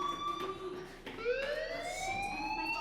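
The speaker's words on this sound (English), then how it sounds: "Hey, do you hear that fire alarm?" A fire alarm in Life is Strange wails with a rising and falling electronic tone, steady and moderately loud.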